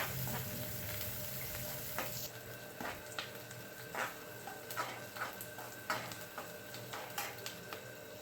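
Onion and green chillies frying in oil, a low crackling sizzle with a string of light clicking taps from stirring, quiet and close, no speech.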